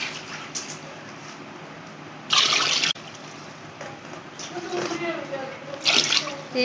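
Water pours into spiced chicken pulao masala in a home pot: a short, loud rushing splash, then softer trickling and dribbling, and a second brief gush near the end.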